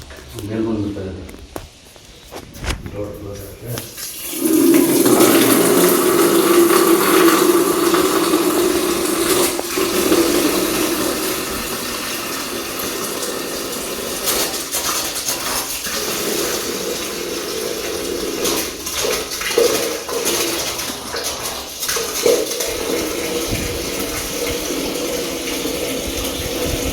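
Water runs steadily onto freshly plastered walls of a house under construction to cure them. A continuous loud splashing stream goes on for a long stretch while someone speaks over it, with occasional footsteps and knocks.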